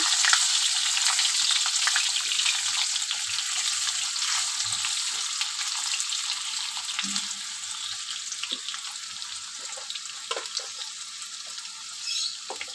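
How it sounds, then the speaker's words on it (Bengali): Potatoes fry in hot oil in a pan with a steady, close hissing sizzle throughout, and occasional stirring scrapes and light knocks come through. "আলুটা একটু বেশ ভালো করে ভেজে নেব"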